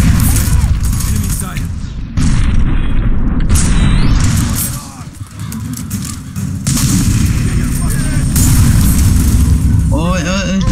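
Explosions and gunfire from the video game F.E.A.R. 3, Slums level, boom repeatedly and loudly, with dense bursts of rumbling blasts and mechanical noise throughout.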